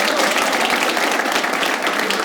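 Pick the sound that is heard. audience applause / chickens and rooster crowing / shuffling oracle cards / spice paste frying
audience applause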